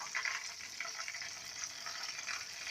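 Chicken drumsticks coated KFC-style crackle steadily in hot deep-frying oil at home, a dense continuous sizzle heard close up with no voices.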